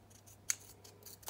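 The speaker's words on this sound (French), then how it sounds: "Le petit bandeau, je vais le couper." Scissors snip through a paper band wrapped around a deck of cards, giving a few short, crisp cuts close up in a quiet room.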